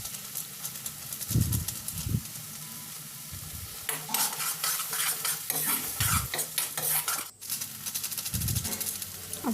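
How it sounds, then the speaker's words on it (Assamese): A spoon scrapes and stirs ground cumin and chili powder frying in a pan, with irregular close scraping strokes over a soft background sizzle. "আৰু এতিয়া মই এইখিনি ভালকৈ লৰাই দিলোঁ।"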